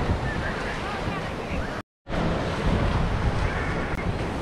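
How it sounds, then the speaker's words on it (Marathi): Sea waves wash steadily onto Tarkarli beach, a broad continuous roar of surf and wind with a brief dropout midway and no voices. "या शांततेमध्ये खळखणाऱ्या पाण्याच्या लाटांचा आवाज"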